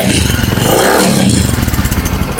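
A used Bajaj Discover 110 cc motorcycle engine runs steadily up close, a loud continuous putter with a clattering mechanical edge throughout.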